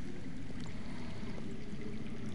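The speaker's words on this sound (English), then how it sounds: "I hear water." Running water heard underground in a Game of Thrones video game, a steady low rushing flow, continuous and moderately loud with no talk.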